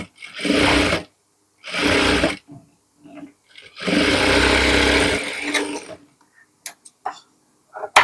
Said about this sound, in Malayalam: ഇതിന്റെ ഈ വശവും അടിച്ചു കൊടുക്കാം.